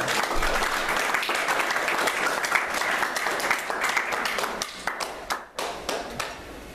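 Church congregation applauding, a dense burst of clapping that carries on strongly and then thins into scattered claps near the end, with faint voices underneath.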